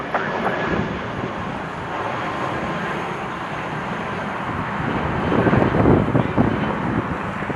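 A jet departing runway 25 right at Los Angeles International Airport produces a broad, steady roar heard from a distance, swelling slightly toward the end, with wind noise on the microphone.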